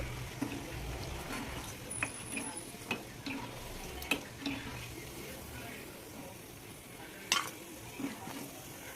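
Cashew nuts frying in a pan for a chicken roast, giving a steady soft sizzle with occasional stirring clicks and scrapes, close and moderately quiet, with no one speaking.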